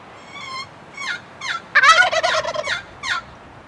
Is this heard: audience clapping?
no